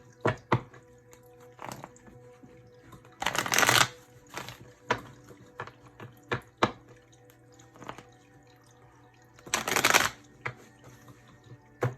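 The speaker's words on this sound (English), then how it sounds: "Let's just give it a shuffle." A tarot deck being shuffled by hand gives a series of crisp card flicks and taps, with two longer riffling bursts, all close and otherwise quiet.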